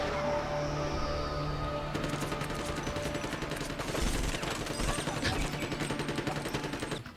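Rapid bursts of gunfire crackle through a busy movie car chase scene from Bad Boys II, mixed with engine roar, impacts and score, all moderately loud and dense, with some voices underneath.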